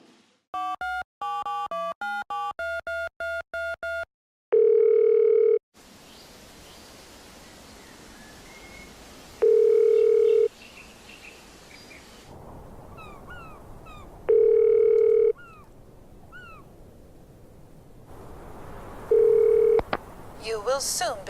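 A telephone call to Sweden's public phone number starts with a quick run of dialing beeps, then a steady tone repeats at regular intervals over a hissing line, with no speech.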